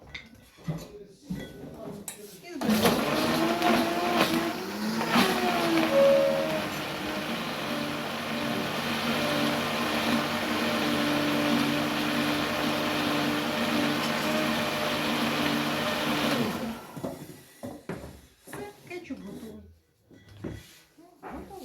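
A loud, continuous whirring blender motor drone runs for about fourteen seconds, steady and close, blending tomato paste ketchup, with brief clatter and talk before and after.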